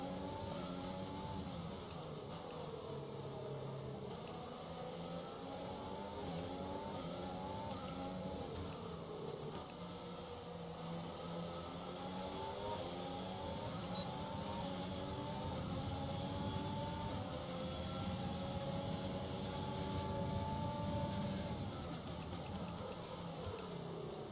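F1 2020 race car in a video game, engine howling through rising and falling revs during an overtake on the outside, a continuous loud whine with gear shifts.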